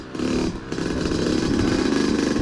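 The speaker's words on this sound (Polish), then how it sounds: "Pierwsza jazda Kuby na Husqvarna. 65." Husqvarna 65 dirt bike engine held at a steady high rev, a loud buzzing drone that runs through the whole stretch with a brief dip early on.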